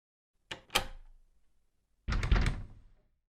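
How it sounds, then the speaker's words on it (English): A door shutting with two quick thuds followed by a second heavier closing clunk, close by and alone with no talk. "the woman locks the door and keeps the man outside"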